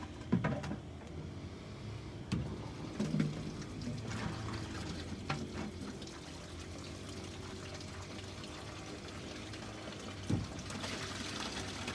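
Water draining from a tank inside a skoolie bus under conversion, a faint steady trickle and gurgle with a few knocks and clunks, no voices.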